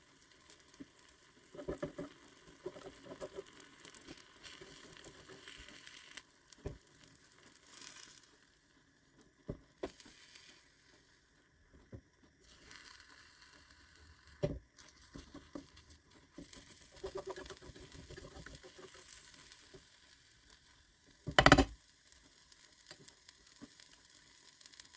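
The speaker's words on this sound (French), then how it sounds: "Et maintenant, on va laisser cuire un petit peu pour que l'omelette prenne bien." An omelette with peppers, curry and turmeric frying in a pan, a faint, steady sizzle with occasional soft scraping and clinks of a utensil against the pan.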